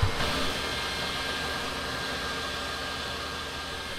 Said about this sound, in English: I gotta vacuum these bees off my lap.